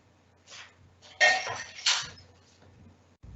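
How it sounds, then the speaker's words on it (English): Metal teaspoons picked up from a kitchen drawer, clinking against each other in a few short bursts, close and fairly loud with quiet gaps between. "let me just get some teaspoons while you stir"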